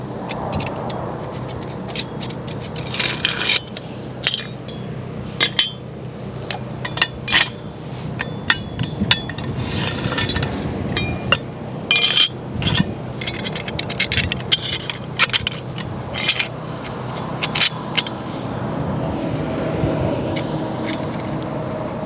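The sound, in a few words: assembling metal plates with carriage bolts and nuts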